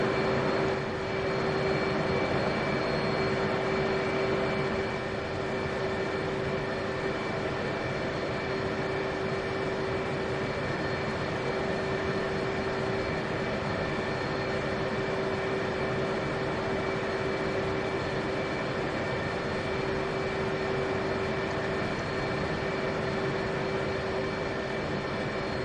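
Jet aircraft engines in DCS at Nellis during an interval takeoff, a steady loud roar with a sustained whine holding constant throughout, no talking.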